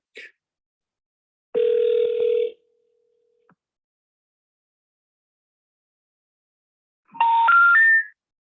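A phone call is placed: a short burst, then a steady dial tone lasting about a second, then silence before a rising three-note disconnected-number tone sounds near and clear.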